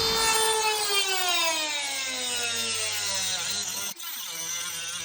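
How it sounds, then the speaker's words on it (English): Angle grinder with a cutting disc slicing through metal pieces for a radiator fan shroud, a loud, steady high-pitched whine that slowly drops in pitch as it bites in, with a brief dip near the end. "had to get an angle grinder with a cutting disc. This worked much better."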